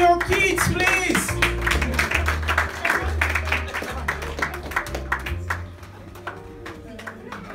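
At a children's annual award ceremony, a crowd keeps up rhythmic clapping over background music and a voice, the claps thinning and fading toward the end.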